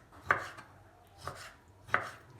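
A knife chops through heart and kidney on a cutting board in three sharp, evenly spaced thuds, each a crisp close knock against a quiet background with no talking.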